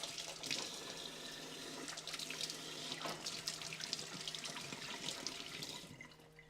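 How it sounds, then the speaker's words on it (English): Hands washed under a running kitchen tap, a steady close splash of water into the sink with small shifting spatters, then the flow cuts off, no talking. "wash my hands real quick"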